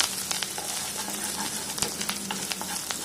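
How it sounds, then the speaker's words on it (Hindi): Mustard seeds, ginger, curry leaves and chopped green chilli sizzle and crackle steadily in hot oil, with scattered sharp pops from the seeds over a constant frying hiss, close by and with no voices. "सरसों चटकने लगी है, अदरक डाल देंगे, करी पत्ता डाल देंगे"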